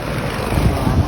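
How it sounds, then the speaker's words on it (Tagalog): Heavy rain pouring down outdoors, a dense, steady roar of broadband noise that fills the whole moment, loud and close with no pauses. "Lumakas na ulan."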